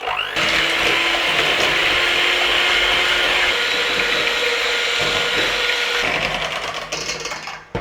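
A kitchen blender whirs steadily while mixing lemon yogurt pound cake batter with melted butter, lemon zest, vanilla and salt, running loud and continuous for several seconds before cutting off.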